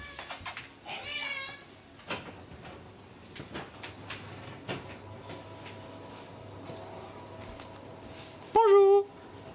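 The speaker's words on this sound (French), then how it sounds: "je vais mettre mon chat dehors." A house cat meows several times indoors, short rising calls scattered among clicks and small knocks, with one louder, longer meow near the end.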